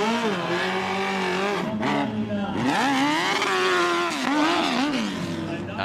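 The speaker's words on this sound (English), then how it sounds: "Now notice this bike right here. It's kind of a morph between a sport bike and a dirt bike." Harley-Davidson hill climb motorcycle, a sport-dirt bike hybrid with a big engine, revving hard with rising and falling pitch as it climbs, loud and close, under an announcer's commentary.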